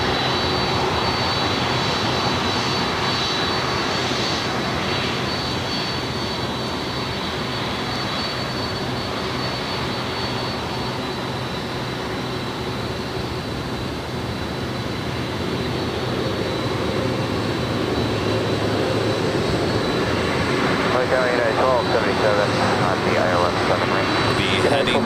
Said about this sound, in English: Got a FedEx flight 1100, a 767 on taxiway Alpha.